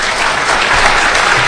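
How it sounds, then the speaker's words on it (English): Loud, dense applause from a conference audience thanking a panel at Black Hat in Las Vegas, a steady wash of many hands clapping close by throughout. "If we could have a round of applause for this panel"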